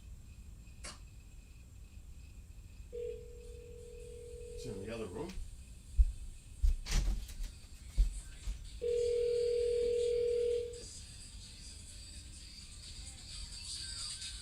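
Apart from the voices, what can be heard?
Alexa smart speaker placing a phone call, dial tone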